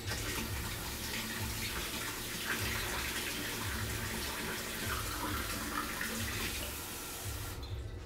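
Tap water runs steadily into a container to mix homemade broth in a kitchen, a continuous close rushing splash that stops abruptly just before the end.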